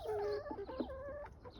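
Chickens cluck close by in a short burst of overlapping, throaty calls with a faint background hum.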